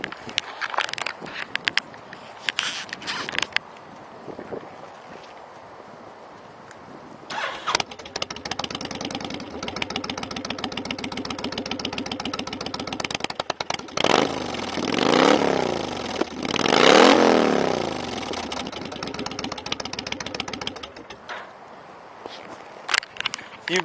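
A 2004 Honda VTX1300S Retro V-twin cruiser motorcycle cranks over, fires up and settles into a steady idle with a few throttle blips, heard up close at a dealership after some brief sounds at the start.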